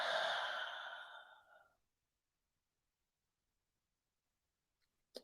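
A single deep, breathy exhale is heard close up and fades over about two seconds, with ears covered, followed by near silence and a faint click at the end.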